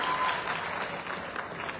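A crowd at an AWPL gathering claps steadily and fairly loudly throughout, a dense, even patter of many hands with no voices on top.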